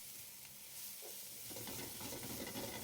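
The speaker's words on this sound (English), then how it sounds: "Add the vegetables. Stir fry for about 1 minute." Vegetables stir-fry in hot cooking oil in a smoking wok with a soft, steady sizzle and hiss that builds into busier crackling, with no voices.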